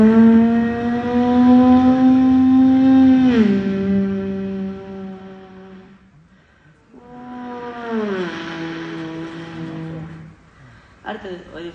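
A performer at a school arts festival mimicry contest voices a car passing in front and going back, with two loud sustained engine-like hums. Each hum slides downward in pitch as it passes, and a short break separates the two passes.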